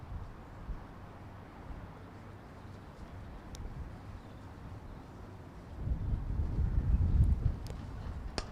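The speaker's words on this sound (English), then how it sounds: "That wind is clearly picking up again as well." Wind gusting across an open cricket ground during a women's one-day cup match, a steady low rumble of microphone buffeting that swells louder and heavier toward the end, with no voices.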